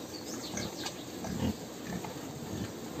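Caipira pigs grunt and snort on a farm, several low grunts heard at moderate distance over steady outdoor background noise.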